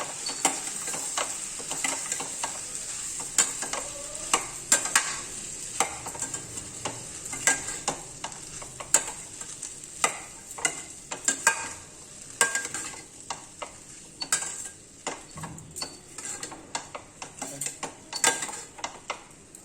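Sabudana khichdi seasoned with black pepper being stirred in a pan, a continuous soft sizzle under repeated scraping and clinking strokes of a spoon, close and moderately quiet with no talk.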